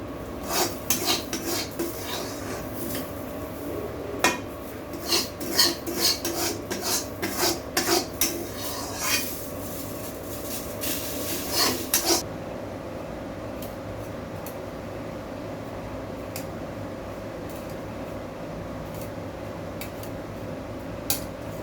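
Homemade ghee poured through a metal strainer, with repeated scraping and clinking of metal utensils against the mesh and pot for several seconds, then a sudden stop leaving only a quiet room hum.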